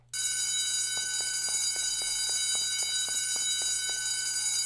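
Alarm bell ringing in the video game DeathSpank: The Baconing, a loud, steady electronic ring with rapid repeating pulses that sounds continuously throughout, no talking over it.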